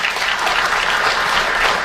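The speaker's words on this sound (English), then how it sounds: "I guess we better clap." A crowd bursts into loud, dense clapping, a continuous close wash of applause filling the whole short stretch.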